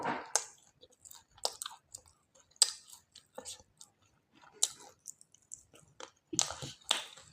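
Chit ruti pitha, a Bengali rice pancake, chewed close to the mic in soft, irregular crunchy bites spaced across the clip, with quiet gaps and occasional faint breathy sounds between mouthfuls.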